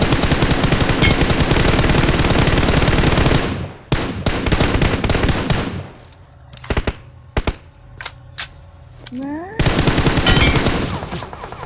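Automatic gunfire in the PUBG Mobile video game: loud, rapid continuous bursts for several seconds, a brief gap, a few sparse single shots, then another sustained loud burst.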